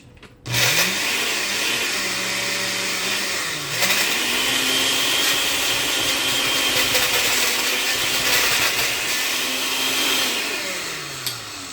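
Food processor chopping broccoli, with a loud steady motor whir that starts abruptly, pauses briefly, restarts and runs continuously.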